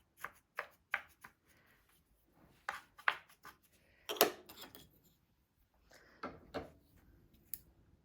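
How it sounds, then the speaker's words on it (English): Weft yarn is snipped off a tapestry needle during weaving with a small kit. A few sharp, close scissor snips and soft rustles are separated by quiet pauses, with no voices. "Going to cut my weft off my tapestry needle"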